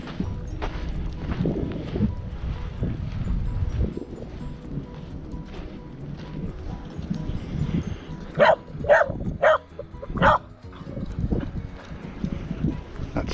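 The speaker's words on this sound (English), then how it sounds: "The noisy family dog." A family dog barks several times in short sharp bursts near the end, heard outdoors on a coastal beach path amid wind noise and footsteps.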